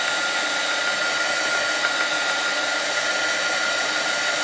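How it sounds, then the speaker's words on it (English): A heat tool blowing onto wet card paper, giving a steady loud whooshing hiss with a faint whine, close and unbroken throughout. "I'm going to go ahead and hit this with the heat tool, because if it's wet, it'll tear."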